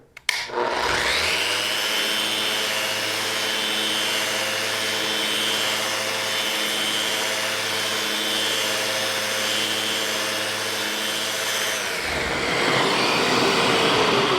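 A power sander runs steadily on wood with 60 grit sandpaper in regular mode, a loud continuous whirring drone with a rising start and a brief change near the end, no talking.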